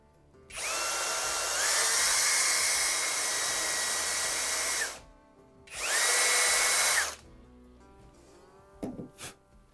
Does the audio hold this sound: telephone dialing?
no